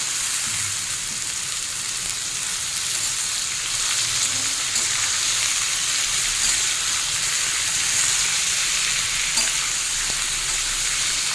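Boiled young jackfruit frying in mustard oil gives a loud, steady, dense sizzle that holds without a break, heard close with no talking.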